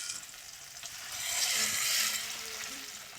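Maharashtrian tempering for dal crackles in hot oil in a pan, a bright hissing sizzle that swells for a moment and then eases off over a few seconds, with no voices.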